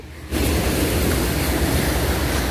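Sea waves washing onto the beach at Bang Saphan Noi, Prachuap, on a calm morning, a steady broad wash of surf that swells in after a brief quiet start and stays loud and close.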